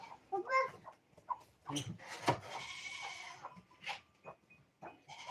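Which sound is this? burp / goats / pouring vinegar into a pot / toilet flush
goats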